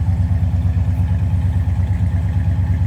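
A 1969 Plymouth Roadrunner two-door hardtop idles from behind the car, a loud steady low rumble with a regular rhythmic throb and no talk.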